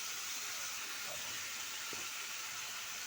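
Green chillies sizzle in a pan while a thin fish and stem curry cooks, making a soft, steady hiss that runs evenly throughout at low volume with no voices.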